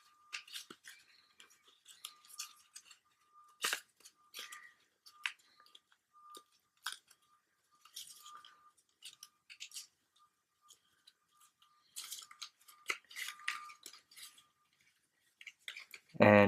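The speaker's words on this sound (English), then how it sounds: "fold it flat, and fold this up and fold fold this piece in half." Paper being folded by hand for an origami pickelhaube helmet: scattered crisp creases, taps and soft crinkles in irregular bursts, close and fairly quiet, with a faint steady tone underneath.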